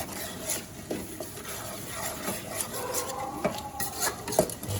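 Metal utensils scrape and clatter in a pan with a light sizzle, an irregular rhythm of dry-roasting field rat meat, close and moderately loud with no talking.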